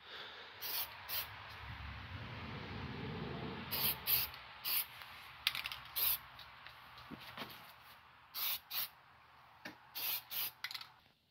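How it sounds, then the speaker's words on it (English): Short, hissing bursts of spray paint on a Mustang as a faux gas cap is painted, about a dozen quick sprays in an uneven rhythm, close and fairly soft, with no talking. "It's really tempting to spray heavy."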